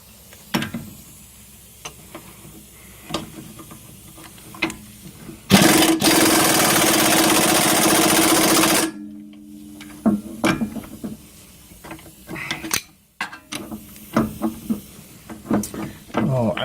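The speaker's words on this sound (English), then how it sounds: "time for a rattle gun, I reckon" Air impact wrench on a Toyota MR2 during a gearbox output seal job, one loud buzzing burst of about three seconds, close up, framed by clinks and knocks of tools.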